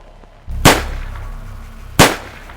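Two sharp gunshots echo through a warehouse tunnel, loud and reverberant, spaced over a second apart against a low rumbling background.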